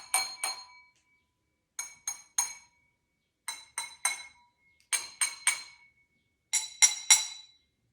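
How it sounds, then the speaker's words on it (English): Glasses holding different amounts of water tapped in short bursts of two or three bright clinks, each group separated by silence, ringing at slightly different pitches, close and clear with nobody talking. "depending on how much water is in the glass, the sound changes"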